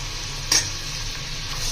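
Sliced onions with a spoonful of garlic ginger paste frying in a pan, giving a steady close sizzle with a brief louder stir or scrape near the start.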